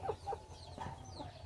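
Medak breed chickens cluck in a few short, separate calls at close range, with a faint hum of background noise underneath.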